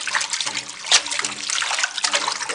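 Water pouring and gurgling as it is drained out of a cooking pot, a fairly steady, close splashing flow.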